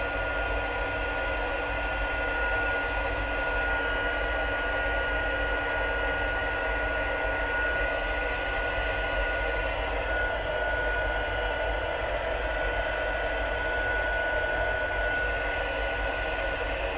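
A heat gun blows with a continuous, even whooshing roar, steady and close throughout, heat-setting thin magazine paper for cloisonné work.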